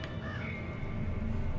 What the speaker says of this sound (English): Hey look, a whole bunch of crows and dead people.